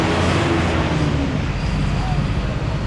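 Steady, loud roadway rumble from vehicles and buses on a main road in Santander, Colombia, a broad continuous wash of traffic noise close by with someone talking over it.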